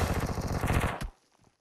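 Rapid automatic gunfire in PUBG Mobile, a dense burst of close, loud shots for about a second that cuts off abruptly, followed by faint scattered game noise.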